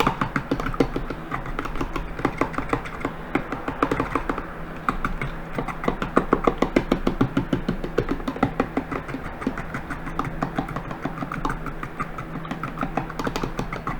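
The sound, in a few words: whisking eggs in a bowl with a fork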